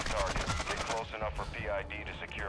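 Automatic weapons fire in the Call of Duty DMZ video game: rapid bursts of shots crackle in the first second, then someone talks excitedly over quieter gunfire in the background.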